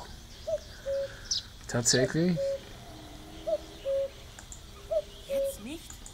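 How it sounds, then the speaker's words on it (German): A cuckoo in the video game The Night of the Rabbit repeats its two-note call four times at an even pace, fairly clear. A person speaks briefly in between. "Ein Kuckuck. Wie klingt er doch?"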